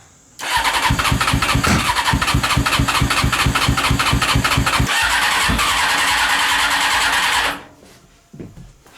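A Honda CBR 600 engine on a reverse trike cranks, catches and revs with a rapid, loud, rhythmic chugging for about seven seconds, then cuts off abruptly, close to the machine.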